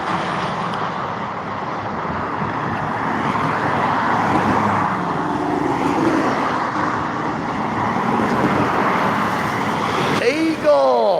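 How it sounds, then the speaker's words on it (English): An Eagle fuel truck passes on a road, its broad engine and tyre rumble swelling and easing over several seconds amid general roadway noise, with a voice talking intermittently over it. "There goes that Eagle fuel truck."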